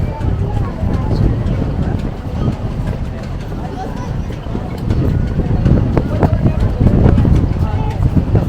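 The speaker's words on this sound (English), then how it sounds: "Super windy out here." Strong wind buffets the microphone on Myrtle Beach, South Carolina, on a Fourth of July evening before fireworks, a steady loud roar with gusts rising toward the end, and a crowd murmurs faintly beneath it.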